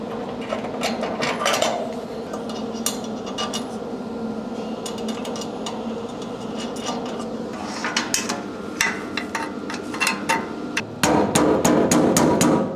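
Repeated metal-on-metal strikes from a Kincrome hammer ring out over a steady workshop hum while fitting a fuel tank on an FJ, growing quicker and more regular toward the end.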